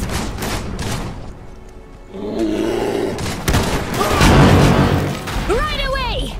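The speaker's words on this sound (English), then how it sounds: "They're shooting!" Gunfire and explosions in the real-time strategy game Iron Harvest, rattling volleys and booming crashes at close range, layered with battle roar and shouted unit voice lines.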